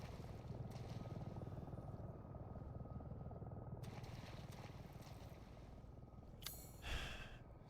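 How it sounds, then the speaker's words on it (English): Helicopter in a video game swamp level, a steady low rotor drone running throughout, fairly loud, with a brief burst of hiss and wind noise near the end. "Here, helicopter."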